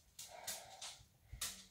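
A dog makes a few short snorting, whimpering noises close by, four quick bursts spread unevenly across the moment in an otherwise quiet room.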